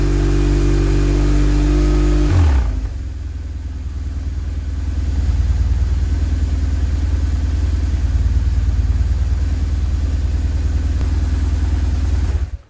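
A BMW R 1150 GS motorcycle engine runs steadily and loudly during an oil pressure test, a deeper idle-like drone settling in after a brief higher-revving start, with no talking.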